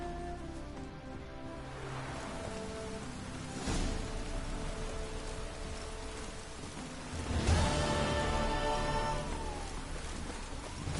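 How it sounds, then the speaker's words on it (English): Steady rain pattering continuously in the video game The Witcher 3, with a couple of low rumbling swells like distant thunder, fairly quiet and without voices. "In this rain."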